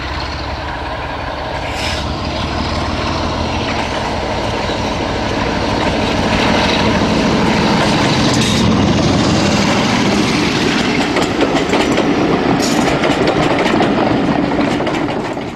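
Diesel locomotive D1842 or 47192 working on the Churnet Valley Railway in June 2007, giving a continuous heavy rumble and engine roar that swells louder as it draws nearer, with faint rail clatter mixed in.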